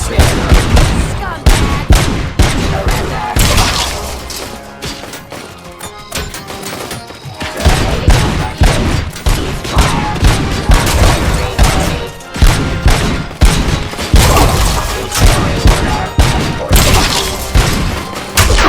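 Gunfire in the video game RoboCop: Rogue City: loud, relentless volleys of shots and heavy thuds hammer away almost without pause, dipping briefly before resuming, with a short spoken line among the chaos.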